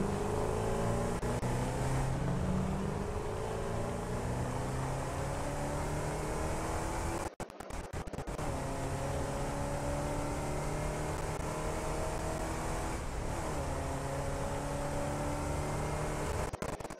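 The Explorer, a car in the factory-building game Satisfactory, drives along with a steady engine drone and shifting gear-like tones, briefly cutting out midway and then resuming; no talking.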